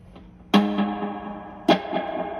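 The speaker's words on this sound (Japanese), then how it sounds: "この2つを押した状態で ここを回すと、 前回にしましょうかね、 スプリングリバーブがかかります。" An electric guitar runs through a Strymon El Capistan tape-echo pedal with its spring reverb engaged: two chords strike sharply about a second apart, each ringing out into a long, shimmering reverb tail with no talking.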